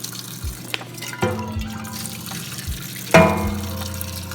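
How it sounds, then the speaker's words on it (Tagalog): Chicken liver rinsed under a running kitchen tap, water splashing and gurgling in a sink with a few sharper splashes and handling knocks, close by. "i-rinse lang natin to sa running water para matanggal po yung mga dumi-dumi o may excess fat"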